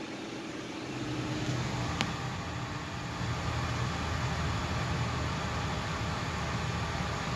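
Ford E450 church bus engine at high idle on a 22°F cold start, a steady raised drone with broadband rush that holds evenly throughout, close and unbroken.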